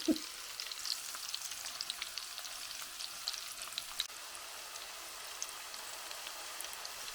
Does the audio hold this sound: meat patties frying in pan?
yes